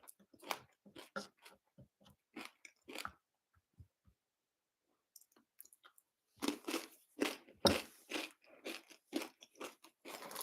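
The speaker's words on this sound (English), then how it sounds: "Sorry if you don't like hearing people chew." A person chews and crunches on food close to the mic, with irregular bursts of crunchy bites broken by a quiet pause before a denser run of loud chewing.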